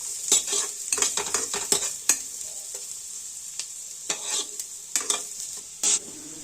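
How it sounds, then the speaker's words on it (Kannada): Beans frying and being stirred in a pan, a bright steady sizzle broken by quick clusters of metal spoon scrapes and clinks against the pan, close up, no speech. "ಬೀನ್ಸ್ ಹಾಕ್ಕೊತಾ ಇದ್ದೀನಿ, ಇದನ್ನು 1 ನಿಮಿಷ ಫ್ರೈ ಮಾಡ್ತೀನಿ"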